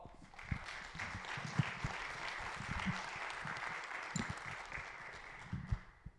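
An audience claps steadily for a speaker being introduced on stage, a sustained patter of hands with a few sharper claps nearby, at moderate volume in a room.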